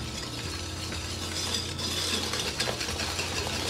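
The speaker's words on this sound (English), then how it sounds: "I'm going to put some cocoa powder as well in. A couple of tablespoons. Whisk those all together." Egg yolks, sugar and cocoa powder whisked together in a bowl, with a steady scraping, clinking rattle that runs continuously at close range, with no talking.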